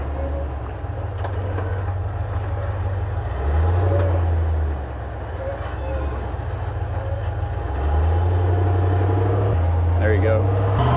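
A Jeep engine working its way up a small rock wall on an off-road trail at Wolf Caves: a loud, close rumbling drone that surges in two revving pushes and then eases back, with people talking over it.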